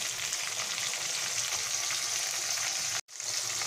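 Potatoes frying in hot oil with salt and turmeric, a dense, loud, continuous sizzle that cuts out abruptly for a split second near the end before resuming.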